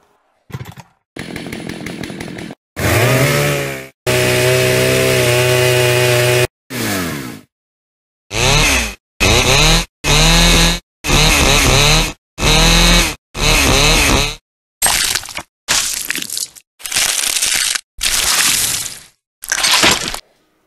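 Chainsaw weapon from Black Ops zombies, heard as a series of about a dozen loud, separate revving bursts with short silent gaps between them, some sustained and droning, others rough and gritty.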